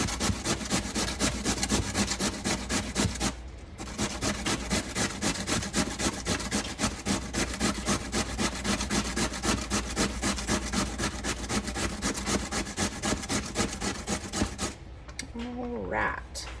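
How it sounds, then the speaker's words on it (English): A fresh potato is grated by hand, a fast, steady run of rasping scrapes close up that pauses briefly once and stops near the end, where a voice begins speaking. "So I grate a fresh potato to add to mine"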